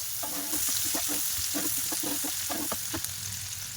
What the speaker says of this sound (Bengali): লাল লাল করে ভাজা করে নেব